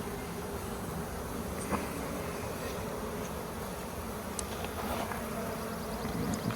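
A dense, steady buzz of a swarm of bees fills the air nearby, continuous and droning with no voices over it.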